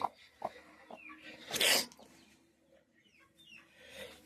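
A hen clucks close by in a quiet home yard, with short soft clucks and one louder squawking burst in the middle, then fainter chirps and clucks, and no talking.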